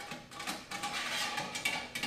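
A metal chip tray slides into a Masterbuilt smoker, giving a series of scraping, rattling clicks and clunks at close range, irregular and fairly quiet, with no voices over it.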